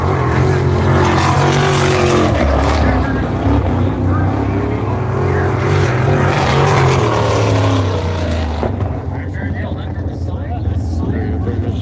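Ontario traditional sprint cars roar through a heat race at Buxton Speedway, a loud, continuous engine drone with rising and falling pitch under steady commentator talk, thinning out near the end.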